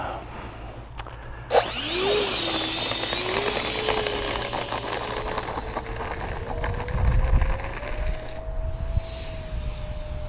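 Small A-10 Warthog radio-controlled model jet with a 64 mm electric ducted fan lifting off, a high rising whine that spools up sharply, then holds a steady shrill tone with some ground rumble, fairly close, no talk.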